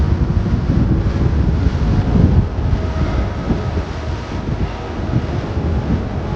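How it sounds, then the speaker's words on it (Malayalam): Strong seaside wind at Khor Fakkan buffets the microphone in a continuous rough roar with gusts swelling and easing, and no one speaks. "പക്ഷെ നല്ല കാറ്റാണ് കേട്ടോ ഇവിടെ"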